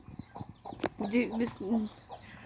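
Hens cluck softly close by, a few short calls and a warbling cackle, with faint scuffling around them.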